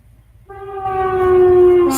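A passing train sounds a loud, sustained horn that swells and holds for over a second, close by, with rumbling rail noise underneath.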